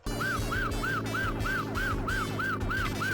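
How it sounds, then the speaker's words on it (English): An arcade LED setup plays a wailing siren sound effect, a loud repeating rise-and-fall tone cycling about three times a second, steady and alone over a low electronic hum. "let's go ahead and escape while we still have our siren on"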